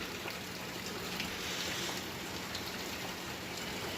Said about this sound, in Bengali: কিন্তু সকাল থেকেই কেমন বৃষ্টি দেখো